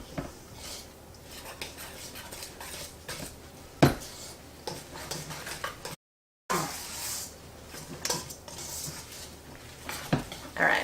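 Ricotta and Parmesan cheese stirred together in a bowl with a utensil, soft scraping and clinking against the bowl, with a few sharper knocks and a brief gap midway; no voices.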